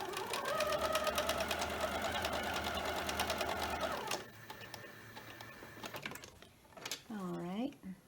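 A sewing machine runs quickly through strip-pieced quilt fabric at a short 2.2 stitch length, whirring steadily for about four seconds, then stops, leaving fabric rustling and a soft voice.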